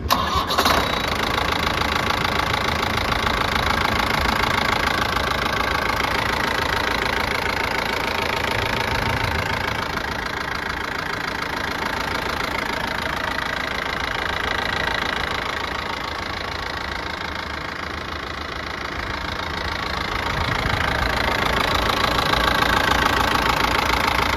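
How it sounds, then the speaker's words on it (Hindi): A Mahindra Major Jeep CL 550 MDI turbo diesel engine cranks and catches, then settles into a steady, close, clattering idle that runs on without speech. "अब सुनते हैं इसके इंजन की आवाज़"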